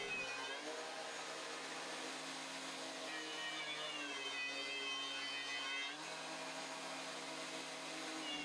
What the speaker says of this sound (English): then I could shove it through the planer